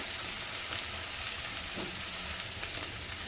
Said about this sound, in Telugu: కట్ చేసి పెట్టుకున్న వంకాయలు దోసకాయలు కూడా వేయించేసుకున్నాను